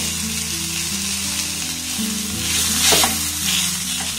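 Grated potato tossed into hot spices in a pan, a loud continuous sizzle with stirring scrapes and a low steady hum underneath.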